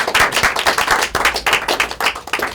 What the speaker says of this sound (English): Give him a nice round of applause for being brave.